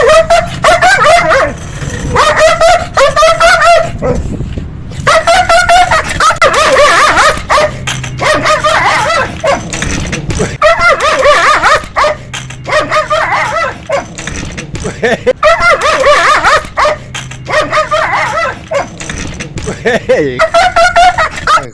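A dog barks loudly and repeatedly in rapid bursts, close by, with yips and whimpers mixed in, over steady background noise.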